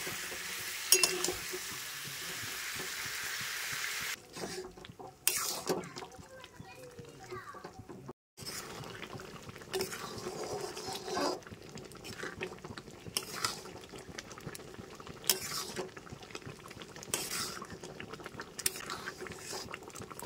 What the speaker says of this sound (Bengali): তো ভালো করে কষতে থাকতে হবে, কষে কষে এটাকে